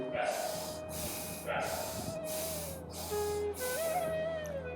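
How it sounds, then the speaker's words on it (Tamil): Slow, deep breaths drawn in and let out during a yoga breathing exercise, a series of long airy exhalations in a steady rhythm, close and fairly soft, with a low steady hum underneath. "கண்களை மூடி மெதுவாக மூச்சை உள்ளெழுத்து மிக மெதுவாக மூச்சை வெளியிடுங்க ஒரு மூன்று முறை"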